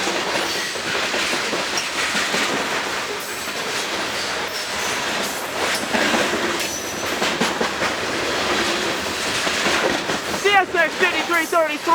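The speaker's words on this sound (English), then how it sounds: "This train came out of Collier Yard." A CSX freight train led by locomotive 5333 passes with steady rumbling, clattering noise, rhythmic wheel clicks and squealing flange tones rising near the end.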